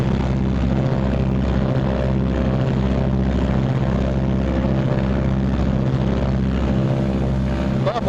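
Twin engines of a Martin B-26 Marauder, run up together to about 1,800 RPM, drone as a loud, steady propeller roar with a regular beating pulse throughout.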